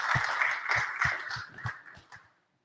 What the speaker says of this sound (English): please join me in giving a huge congratulatory round of applause to our presenters